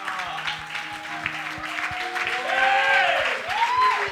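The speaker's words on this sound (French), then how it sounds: "Est-ce qu'on peut acclamer Jésus?" A church congregation claps and cheers to acclaim Jesus, a swelling wash of applause and crowd voices mixed with sustained musical tones, growing louder toward the end.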